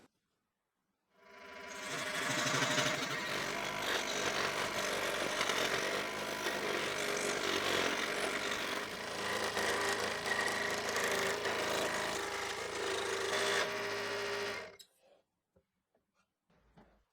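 Power saw cutting strips of scrap wood for a homemade jigsaw puzzle, a sustained, dense whining buzz that starts abruptly, holds steady for about thirteen seconds with slight load changes, then cuts off into quiet rattling.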